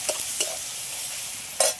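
Onion and tomato fry with turmeric and salt in a pan, a steady sizzle under three sharp scraping stirs, one early pair and a louder one near the end.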